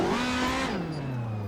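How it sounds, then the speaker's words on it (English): A Ferrari 458 engine swapped into a Scion FR-S sports car, driven while drifting, roars loudly and close, its high, strained engine note sliding steadily downward in pitch as the revs fall. "458 engine in an FRS"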